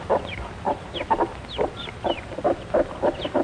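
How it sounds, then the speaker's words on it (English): Plymouth Rock chickens on a poultry farm, a string of short clucks in a loose rhythm, about a dozen calls close by over a faint background hiss, with no talk. "These are Plymouth Rock chickens."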